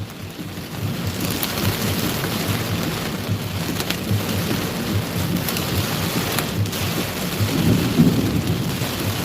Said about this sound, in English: Very intense thunderstorms.